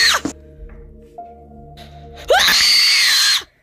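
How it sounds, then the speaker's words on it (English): A loud, sustained scream of about a second, rising sharply and holding a high pitch, cutting in after a quieter stretch of low tonal hum and faint knocks inside a farmhouse. "Who screamed?"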